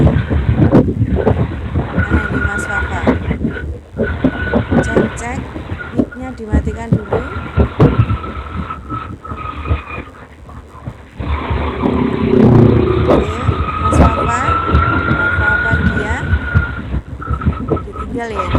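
Motorcycle riding noise coming through an online class call, a continuous engine drone and wind rumble with passing traffic, loud and compressed, while people talk over it.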